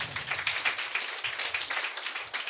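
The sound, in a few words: congregation clapping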